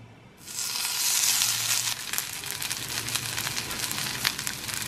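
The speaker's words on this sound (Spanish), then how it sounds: "Sartén calentándose, voy a poner mis albóndiguitas." Bean meatballs dropped into a hot frying pan with a little oil: a loud, steady sizzle that bursts in near the start and carries on with crackling pops.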